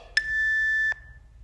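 A single electronic workout timer beep sounds as a clear, sustained tone lasting under a second, loud against near silence, starting and ending abruptly.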